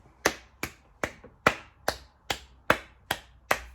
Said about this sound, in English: Round of applause for 11 turnovers.